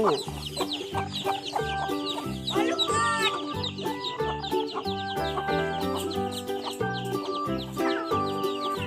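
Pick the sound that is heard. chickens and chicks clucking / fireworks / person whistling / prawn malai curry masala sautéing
chickens and chicks clucking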